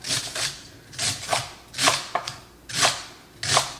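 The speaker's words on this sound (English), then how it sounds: "As I'm chopping this" Knife chopping vegetables on a board, about seven crisp, uneven strokes close by, with short pauses between bursts.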